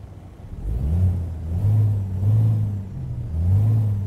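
Detroit Diesel Series 60 engine in a Kenworth W900A truck in American Truck Simulator cranks and catches, then settles into a loud low diesel drone with a few rising and falling revs.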